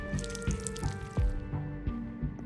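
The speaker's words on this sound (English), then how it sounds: "I'll go and add some water" Water pours and trickles onto a clay finger mold in Whispers of a Machine, a short, faint run of splashes and drips with a few soft knocks.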